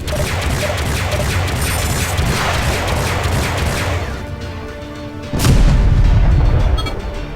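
Pirate ships destroyed in Freespace 2 space combat, a loud roaring rumble of weapon fire followed by a heavy deep explosion boom that swells and then fades, with no talking.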